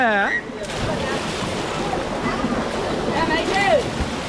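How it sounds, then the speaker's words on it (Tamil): Steady rushing water fills the scene, a continuous loud wash with a few voices calling over it. "உள்ளே இருந்து நல்லா தண்ணி வந்துக்கிட்டே இருக்குது"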